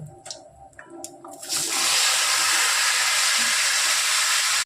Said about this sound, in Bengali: এবার এতে কেটে রাখা লাউ দিয়ে দেব